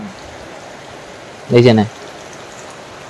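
Steady rain falls outdoors at a weekly market in Jamuguri, a soft, even hiss filling the whole stretch, with a single short spoken phrase breaking in near the middle.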